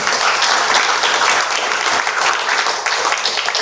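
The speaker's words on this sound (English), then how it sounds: "I really invite all of you to give a big round of applause to President Ali." Steady, full audience applause at a Guyana side event at the COP30 climate conference, a large crowd clapping continuously at close range with no pauses.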